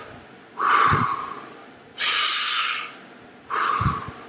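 Three strong, forceful breaths in Wim Hof method breathing, each a loud hissing rush of air close to the microphone, evenly spaced with short quiet gaps.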